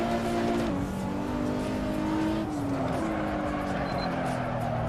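A production car engine in the Assetto Corsa racing game, driven online on the Ring, drones steadily with pitch shifts between gears, a continuous loud whine that rises and dips as the car is driven.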